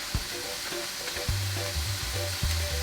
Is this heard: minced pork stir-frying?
yes